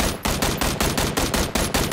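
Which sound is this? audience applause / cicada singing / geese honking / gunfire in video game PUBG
gunfire in video game PUBG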